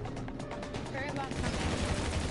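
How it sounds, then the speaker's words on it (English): Gunfire from GTA Online rattles in rapid bursts of shots, dense and continuous, mixed with game noise and a voice talking over it. "No, look, I'm not even aiming, I'm just shooting and wasting bullets."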